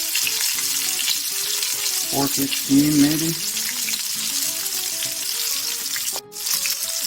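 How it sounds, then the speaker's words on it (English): Loud, steady sizzling of fish frying in oil at about 400 degrees fills the clip, with a brief voice speaking over the crackle partway through. "I don't even know if you can hear me talk with all this sizzling."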